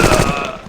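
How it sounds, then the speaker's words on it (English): A number 7 submachine gun firing in an Indiana Jones video game, one brief, loud, close burst of rapid automatic shots with a final thump at the end. "I'm gonna use a number 7 submachine gun there."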